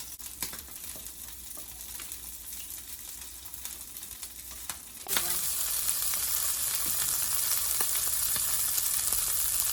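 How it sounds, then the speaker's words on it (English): Steady crackling sizzle of oil frying in a pan, quieter at first and then jumping louder halfway through as food hits the hot oil. "Those little sizzling sounds will make little burning water or oil go onto your skin."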